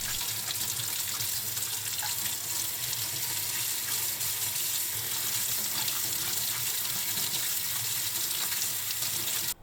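Kitchen tap running while spinach stems are washed, a steady splashing stream of water into a sink with faint shifting spatters, alone without talk.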